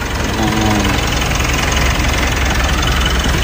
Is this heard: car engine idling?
yes